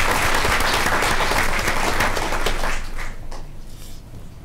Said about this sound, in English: if we can give these boys and girls a round of applause